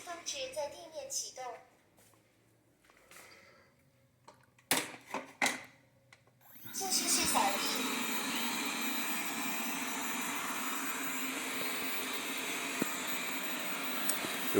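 A Xiaomi Mop P robot vacuum cleaner, set down near a kitchen fridge, starts after a few seconds of brief handling clicks and a voice, then runs with a loud, steady whooshing motor hum to the end.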